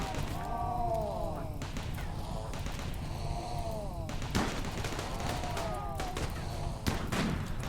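Scattered gunshots from colonists firing in the RimWorld video game, faint thuds and pops amid game sounds and a talking voice.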